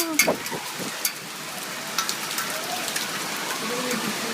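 Hard pellets of hail patter and ticking onto a surface, with sharp individual impacts scattered over a steady hiss of falling ice.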